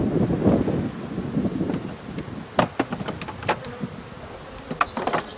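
Honeybees buzz close to the microphone during transfer into a hive, a gusty, droning hum with wind noise, punctuated by small clicks and knocks of hive handling.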